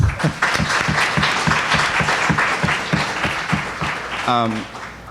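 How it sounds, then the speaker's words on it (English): Applause for a speaker at a book festival panel, many hands clapping steadily and fairly close, with a voice starting to speak near the end as it continues. "Please a round of applause for her."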